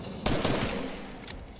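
A sniper rifle fires in a Fortnite match with a loud, sharp report followed by a decaying rumble and some faint further gunfire.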